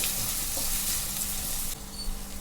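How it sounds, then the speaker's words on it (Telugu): Onions and green chillies with salt fry steadily in a pan, a continuous close sizzle that thins slightly near the end. "ఇందులోని 1 స్పూను ఉప్పు వేసుకొని కాసేపు మగ్గనిద్దాం ఉల్లిపాయలను"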